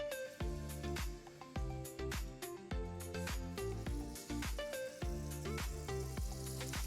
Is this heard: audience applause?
no